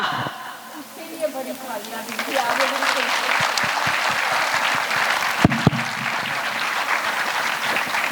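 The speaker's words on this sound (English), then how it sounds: "they deserve a big round of applause" An audience claps at a school annual day celebration, applause swelling from quiet to a full, sustained ovation with some brief speech near the start.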